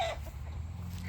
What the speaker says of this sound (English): And those are the chickens.